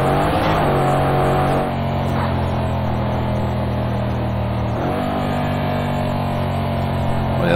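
Mercedes-AMG C63 S engine in the Project Cars 2 racing game, a steady loud drone that shifts pitch twice as gears change, continuous and close with no talk over it.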